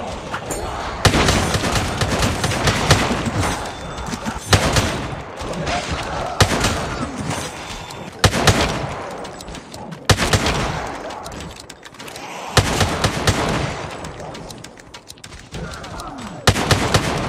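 Heavy bursts of weapon fire in a Call of Duty Zombies match, with repeated volleys and rapid automatic shots cut by short pauses, loud and close throughout.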